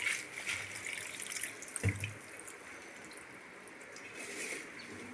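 Amaranth greens are rinsed in water, with faint, continuous splashing and trickling and one brief clunk partway through, at low level with no speech.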